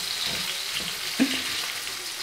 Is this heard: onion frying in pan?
yes